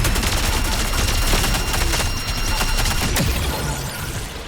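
Loud, sustained turret gunfire in the video game Marathon, a dense rapid stream of shots with booming impacts filling the whole stretch, no talking.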